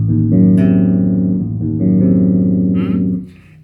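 A bass guitar sounds a diminished chord, its notes ringing and layered in a sustained low voicing that changes partway through, played close and clear before fading out at the end.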